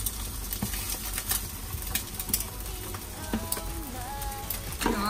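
Egg frying in a pan while noodles are cooked in a home kitchen, giving a steady close sizzle with scattered crackles and a few faint clinks throughout.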